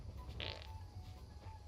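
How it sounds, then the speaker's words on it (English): A character in the Kingdom Come Deliverance II video game farts once, a short buzzy burst standing out over constant low game ambience and hum. "we are farting"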